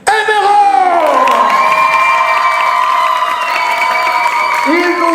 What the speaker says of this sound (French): je voudrais qu'on applaudisse très fort pour une dame qui est là ce soir